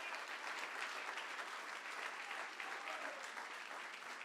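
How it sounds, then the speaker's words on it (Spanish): A church congregation applauds during a sermon, a steady, dense wash of many hands clapping at once that holds evenly without breaks. "Dale el aplauso, Nelson."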